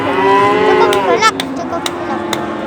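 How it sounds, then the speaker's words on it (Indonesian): A cow at the Wirosari cattle market gives a long, loud, close moo that falls in pitch, followed by market clatter and faint background noise. "Dan ini juga ada sapi babonan."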